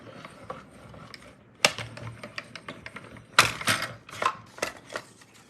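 Manual die-cutting machine pressing a paper card shape for a Stampin' Up! Father's Day card, a string of sharp clicks and clacks with a few louder cranking knocks, close and alone.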